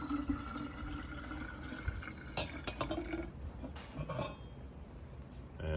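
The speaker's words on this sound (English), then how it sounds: "I have 6 cups of water in here, and I'm gonna go ahead and pour this in here." Six cups of water are poured into a kombucha jar in a kitchen, giving a soft, continuous trickle and splash with a few brighter drips, fairly faint and close.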